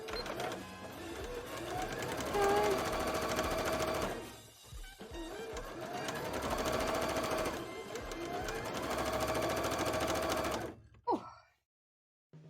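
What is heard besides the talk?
sewing machine sewing a petticoat top stitch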